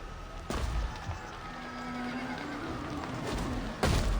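Horse whinnies ring out in the strategy video game Hannibal at the Gates, a drawn-out neigh over a busy battle ambience with thumping impacts at start and end.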